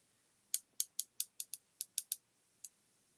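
Gold knitting needles clicking against each other in about ten crisp, quiet taps with an uneven rhythm, close and isolated against a near-silent background.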